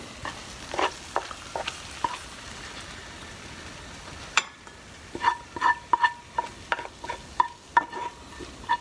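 Caramelized onions sizzle steadily in a pan while a spoon stirs them, giving repeated scraping clicks that grow busier in the second half, close and moderately loud with no talking.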